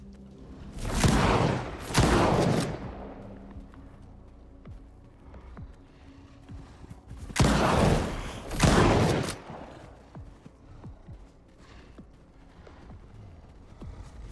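Firecracker anomaly field in the video game S.T.A.L.K.E.R. 2, sharp crackling bursts erupting in two pairs of loud clustered pops separated by quieter stretches of faint background ticking.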